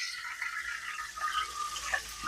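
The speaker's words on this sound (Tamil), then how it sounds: "இந்த நெய்யோட கொஞ்சம் தண்ணி ஊற்றிங்க." Water poured into hot ghee in a pan, a steady hissing, bubbling sizzle with a brief splutter near the end, close and fairly quiet, no talking.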